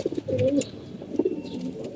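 Pigeons coo close by at feeding time in a loft after their moult, a few low throaty phrases rolling one after another over a soft room background.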